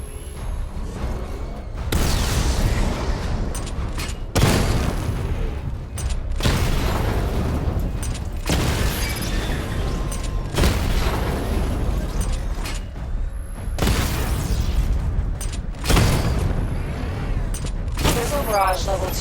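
Missile barrage in Batman: Arkham Knight fires in repeated rounds of heavy booming blasts, about seven loud bursts separated by brief lulls, with a robotic announcer voice speaking between them.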